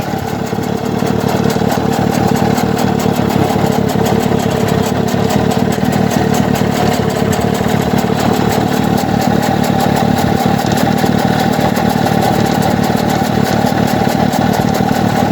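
A Black Pearl motorcycle engine idles loud and close after a carburetor tune and coil pack change, a steady rapid chugging pulse running unbroken throughout.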